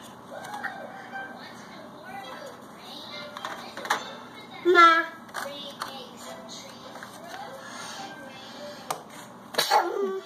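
A single sharp sneeze bursts out midway through a quiet home kitchen scene while a child and an adult talk softly around it.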